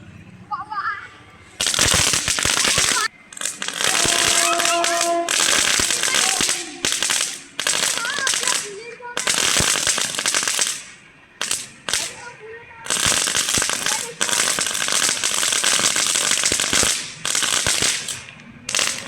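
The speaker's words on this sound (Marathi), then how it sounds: "मॅजिक व्हीप, चला बघूया कसं वाजतंय मॅजिक व्हीप" A Magic Whip firecracker goes off in a long run of sharp bangs and crackling bursts with brief gaps, loud and close, while voices talk in the pauses.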